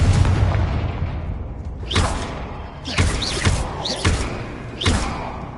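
Bombarda explosion spells in the video game Hogwarts Legacy, four distinct booming blasts in steady succession, each a sharp thudding impact with a brief rumbling tail over a low mechanical backdrop.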